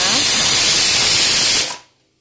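A pressure cooker on a gas stove, cooking khichuri, vents steam with a loud, harsh, continuous hiss close by. The hiss lasts under two seconds and then cuts off abruptly into silence.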